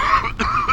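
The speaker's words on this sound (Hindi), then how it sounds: "I'm sorry, कमबख्त खांसी।" A single short cough from a man in a courtroom, a brief harsh burst in the middle between stretches of voiced sound.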